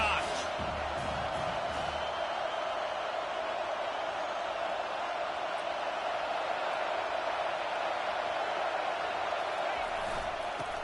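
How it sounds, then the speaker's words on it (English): Steady, dense roar of a college football stadium crowd in Michigan, swelling louder before a second-down play; a constant, loud wash of voices and noise with no pauses. "this crowd is turning it up a notch"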